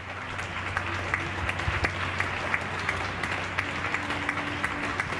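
Neighbours in Getxo applauding health workers from their homes, a steady wash of distant clapping with sharper nearby claps scattered through it and a faint murmur of voices.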